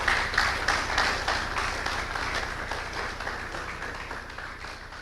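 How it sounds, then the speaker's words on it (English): Audience applause at a tech conference, honoring the event's mentors, with scattered clapping that stays fairly steady and moderately loud, easing slightly toward the end, no talk over it. "give the mentors a round of applause"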